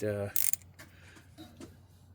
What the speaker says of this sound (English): I'm using an old torque wrench because it's really long